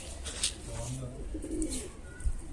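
A runaway pet bird, likely a pigeon or dove, gives soft cooing calls close by, with a few brief chirps, while people talk in the background.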